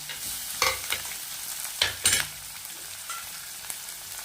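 Onions stir-fried in oil for a millet kurdai chutney, a soft low sizzle broken by a few sharp spatula scrapes against the pan, with no voices.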